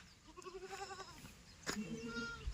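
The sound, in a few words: goats bleating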